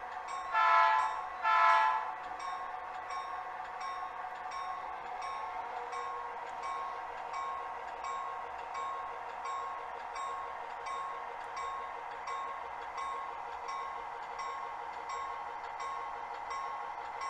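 A locomotive on a running brake test sounds two loud horn blasts, then rolls on with a steady mechanical drone and a faint, regular clicking rhythm.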